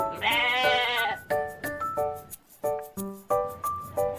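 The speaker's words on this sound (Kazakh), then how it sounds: "Бұл қой." One sheep gives a loud, wavering bleat at the start, followed by a run of short, bright tonal plinks in an uneven rhythm.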